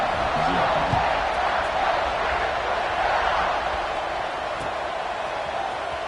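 Football stadium crowd roaring before a kickoff in a Colorado versus Ohio State game, loud sustained cheering with a brief whoop early on, easing slightly toward the end.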